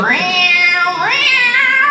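A human voice imitates a cat's meow as if singing opera, two long, wavering, melodic meows rising and falling in pitch, close and loud with no other sound.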